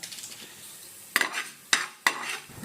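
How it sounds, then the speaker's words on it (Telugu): Fenugreek seeds, lentils and mustard seeds hit hot tempering oil with three sharp bursts of crackle and spatter over a low background hiss, each burst fading quickly. "ఇప్పుడు తాలింపుకి కొద్దిగా ఆయిల్ వేసుకొని అందులో కొంచెం మెంతులు"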